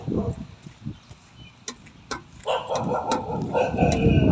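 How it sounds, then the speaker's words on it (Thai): A dog barks in short, sharp yaps at a rural Thai home, several barks scattered over a few seconds, fairly close, mixed with some background rustling and a rising hiss toward the end. "เห่าจังเลยครับ"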